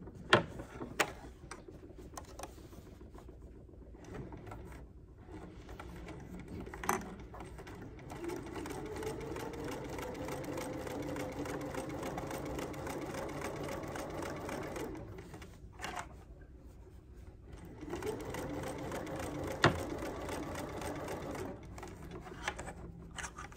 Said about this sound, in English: put this right onto my sewing machine and sew all the way around at 1/4 inch.